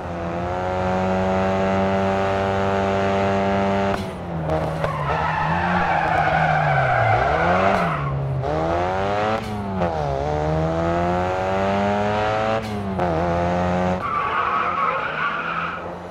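Tires squeal steadily through a drifting car's slides in the Racing Master mobile racing game, a loud continuous screech with pitch sweeps and engine revving, alone without talk.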